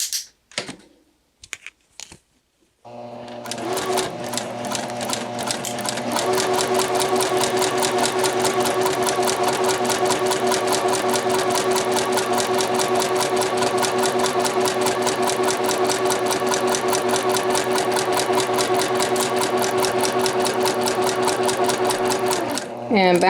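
A sewing machine stitches out of an outward fabric corner on a short stitch setting. A few brief start-stop bursts come first, then a loud, steady, rapid mechanical whir runs on without a break.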